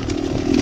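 A 2018 Beta Cross Trainer 300 dirt bike engine runs at a steady, buzzy idle-to-cruise on trails, close and continuous for a brief moment without talk.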